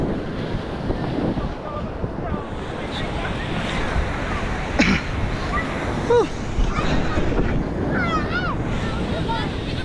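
Large waves surge and crash along a Philippine shoreline beside moored boats, a continuous loud wash with wind buffeting the microphone and brief voices breaking through.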